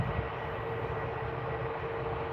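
An aircraft taking off at Edinburgh Airport gives a steady, continuous engine roar heard from a distance, holding an even level throughout with no talk.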